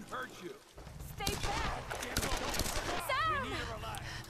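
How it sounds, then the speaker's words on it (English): Gunfire in a Tomb Raider game, rapid bursts of shots crackling amid chaotic action, with people shouting over and between the volleys at a moderate level. "There's surely going to be people shooting at me."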